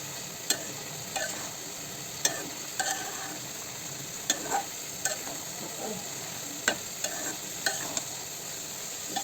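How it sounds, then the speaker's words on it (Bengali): Dal frying with spices in a pan while being stirred, a steady soft sizzle broken by regular scraping clicks of the spoon every second or so, close and fairly quiet, no voices. "একটু কষিয়ে রান্না হচ্ছে সেই ডালগুলো"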